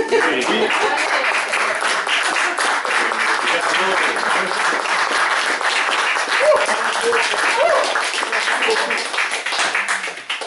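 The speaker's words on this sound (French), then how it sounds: "Je suggère une main d'applaudissement pour les..." Sustained applause from a crowd at a book launch fills the whole stretch, loud and dense, with a few voices mixed into the clapping.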